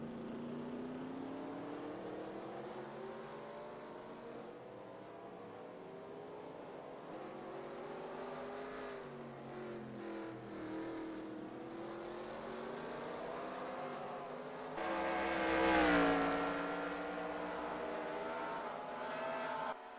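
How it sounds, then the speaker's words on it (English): Engines whine in a simulated NASCAR Busch Series race video game set in Mexico City. The cars' buzzing tones rise and fall steadily at moderate volume, with a louder surge near the end. "I see that our simulated race is winding down and just about over."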